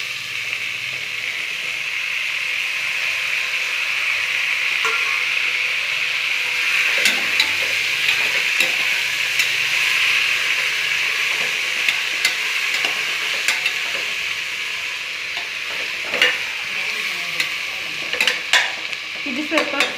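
Tomatoes fry with a browned mixture in a pan, a constant close hiss of sizzling oil with occasional spoon scrapes and taps against the metal.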